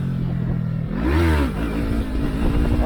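A video game motorcycle revs hard while pulling a wheelie, the engine note climbing and falling in a loud, close, continuous whine with no talking.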